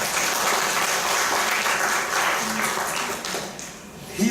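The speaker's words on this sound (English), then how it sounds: "Give him a round of applause" Audience at a behavioural economics lecture applauds their team captain, a full wash of many hands clapping that stays strong for about three seconds and then thins out toward the end.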